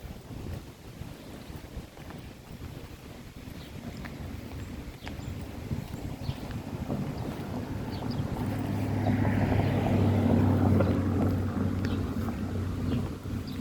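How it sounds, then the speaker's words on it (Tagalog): Steady wind rushes and buffets the microphone, swelling louder partway through, with a low engine hum and water sounds underneath. "Ganitong weather, mahangin."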